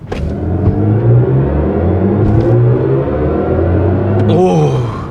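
A BMW i5 M60 electric car accelerates with a smooth, rising electric whine and a deep hum layered underneath, like a spaceship engine powering up, steady and close.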